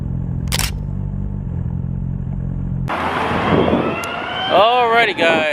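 A fire department vehicle's siren wails and warbles loudly near the end, heard over wind and engine noise from a riding Suzuki GSX-R1000R motorcycle.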